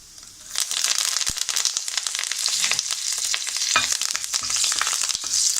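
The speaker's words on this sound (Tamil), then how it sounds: "நல்லா பொரிஞ்ச உடனே கருவேப்பிலை போட்டு தாளிச்சிக்குங்க" Cumin seeds and curry leaves crackling in hot oil for a Tamil-style tempering, a loud sizzling burst that begins abruptly and holds, peppered with sharp pops and spits throughout.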